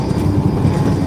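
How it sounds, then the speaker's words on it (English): Truck rolling over railroad tracks, a low rumbling drone with a rapid clattering rhythm of wheels thumping across the rails, loud and close with no talk over it. "You always want to pick your feet up, go over the train tracks."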